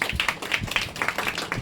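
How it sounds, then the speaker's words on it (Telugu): A church congregation claps hands, a brief burst of quick, fairly close claps in an uneven rhythm. "చప్పట్లు కొట్టండి మహానుభావుడికి."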